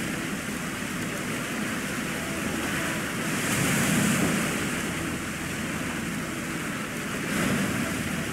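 Ocean waves in the video game Age of Water roll and wash as a steady, broad surf hiss, swelling louder around the middle and again near the end, with no voices.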